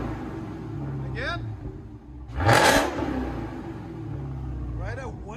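Car exhaust fitted with Flowmaster Outlaw mufflers, center position only, revs in one loud, sharp burst midway over a steady idle rumble, then settles back to idle.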